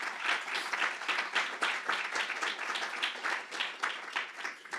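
Lecture hall audience applauding during a memorial lecture at Harvard, a full, steady wash of many hands clapping at moderate loudness, without talk.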